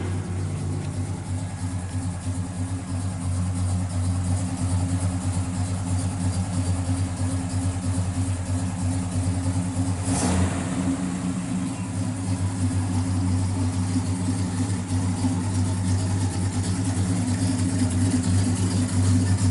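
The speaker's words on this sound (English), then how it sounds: "Motor sounds real good." A 1965 Pontiac GTO with a 400 four-barrel V8 and a mild cam idles steadily, a deep, even rumble running unbroken and close throughout with no talking.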